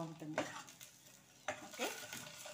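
Stirring in a frying pan for an egg fry with dried red chillies, quiet scraping strokes of a spoon over a soft sizzle, two distinct stirs a second apart.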